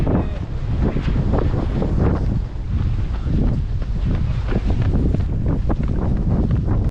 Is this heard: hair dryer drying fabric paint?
no